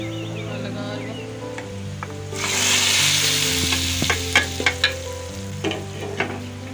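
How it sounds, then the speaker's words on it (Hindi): A tadka tempering for daal hits with a sudden loud sizzle that stays steady for a few seconds, joined by sharp clinks of a spoon against the pan as it is stirred. "तड़का हमारा तैयार हो गया, मैं लगा रही हूँ।"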